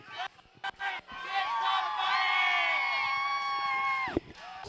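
A large student section at a Metamora high school football game in a packed stadium cheers and whoops in a sustained roar after a few short shouts, loud and close, with many voices blending into one swell that cuts off sharply.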